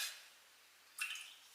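A small splash of water poured into a leftover beaten egg for a pie crust wash, a brief soft trickle after a faint opening sound, quiet and close in a kitchen.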